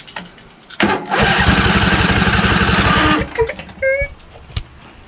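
A Briggs 20HP V-twin engine on a Craftsman LT2000 lawn tractor is cranked by the starter, with a rapid whirring chug for about two seconds. Then it stops with short sputters and a brief whine, loud and close.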